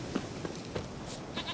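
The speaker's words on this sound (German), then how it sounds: "Komm her, Ziege." A goat bleats in The Witcher 3 video game, several short nasal bleats close by amid game ambience.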